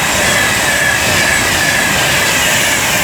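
Train 39153 bound for Glasgow runs past Rugeley Trent Valley station on the West Coast Main Line with a loud, continuous close rumble, a faint wheel squeal riding over the rail noise.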